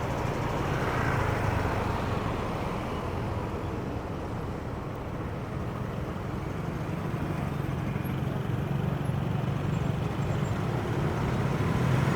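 Continuous road traffic along Bach Dang Street in Da Nang, Vietnam, on a Friday morning near the Dragon Bridge, heard from a moving rider: a steady, dense wash of engine rumble and passing vehicles with no pauses.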